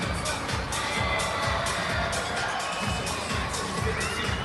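A packed basketball arena crowd roars and cheers steadily during a women's college game between Iowa and Maryland, a dense, continuous wall of loud crowd noise with excited shouts rising throughout.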